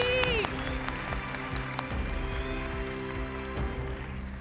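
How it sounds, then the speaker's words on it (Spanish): Studio audience applause during the grand final of a TV singing competition, a steady wash of clapping with a music bed and a brief voice at the start. "Eso, fuerte aplauso, por favor, de este lado, con cuidado."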